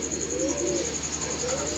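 Pigeons cooing on a rooftop loft, soft low throaty coos repeating close by over a steady high-pitched background hum.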